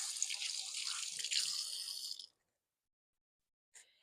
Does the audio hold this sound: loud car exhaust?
no